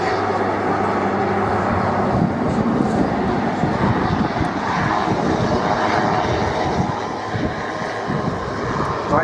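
An Airbus A400M with four TP400 turboprop engines roars steadily overhead during an air show display, a loud, continuous broadband drone that holds for several seconds.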